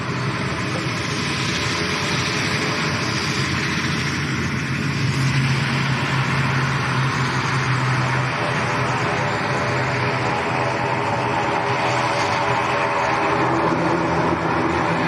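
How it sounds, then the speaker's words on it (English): Ryanair airliner from Dublin at Lanzarote Airport, a steady, loud, continuous engine roar with a low rumble held throughout, no voices over it. "Ryanair from Dublin"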